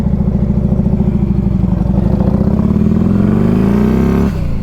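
A turbocharged Harley-Davidson Road King revs loud and close, its V-twin thumping rhythmically as the pitch climbs steadily, then cuts off abruptly near the end.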